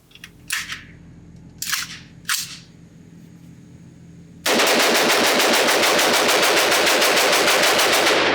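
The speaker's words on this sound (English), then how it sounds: "Just one big old mag dump" A CMMG Mk4 Dissent pistol in 300 Blackout is emptied in one continuous rapid-fire magazine dump, loud and close. A few separate sharp clicks or shots come first, then a sustained burst of fire runs about four seconds.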